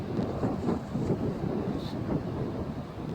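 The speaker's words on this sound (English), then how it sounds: "It's windy as shit out here." Strong wind blowing outdoors in a snowy yard, roaring and buffeting the microphone in continuous loud gusts with no talking.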